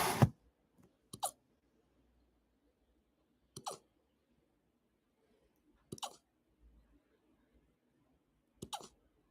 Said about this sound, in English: He has a hiccups, guys. Just listen.